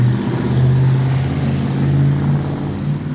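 A loud car drives past outdoors, a steady low engine roar that swells and holds across the whole stretch without pause.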